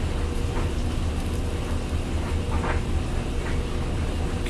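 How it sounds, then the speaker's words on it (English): A washing machine runs steadily in the background during laundry, a constant broadband rumble and churning wash with no talk over it. "the sound you hear in the background is actually my laundry"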